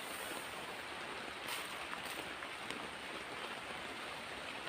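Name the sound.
rain falling at night in forest campsite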